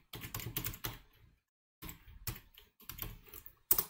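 A computer keyboard clatters with quick bursts of keystrokes as a terminal command is typed, separated by a short pause, close and fairly soft.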